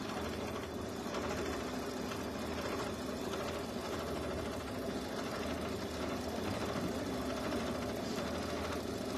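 A sewing machine runs nonstop while stitching a mini quilt, producing a steady, dense mechanical whir at an even level from start to finish.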